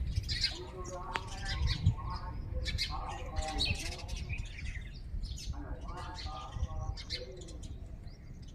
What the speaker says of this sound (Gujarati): આ લીંબુમાં કેટલી ચકલી બેઠી છે